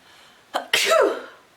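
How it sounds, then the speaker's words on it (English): A single sharp sneeze preceded by a short inhaled catch, loud and close, then fading out. "Oh, I knew I was gonna sneeze."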